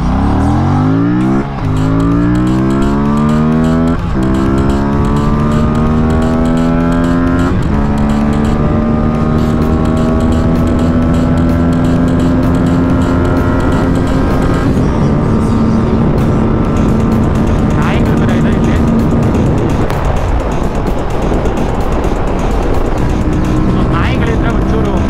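A new car driving on a road with its engine repeatedly accelerating, the pitch climbing through gears in long loud sweeps, close and continuous.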